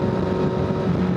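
Four motorbikes, including two Yamaha Aerox scooters, a Honda ADV and a Honda CB650R, setting off on a ride toward Tanay Highlands, give a steady, close engine drone with a low rumble and no voices over it.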